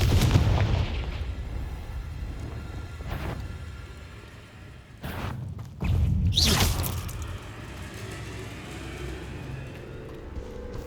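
Confringo explosive spells cast in the Hogwarts Legacy video game, sounding as a couple of sharp blasts and whooshing bursts, loudest near the middle, over a steady low rumble of game ambience.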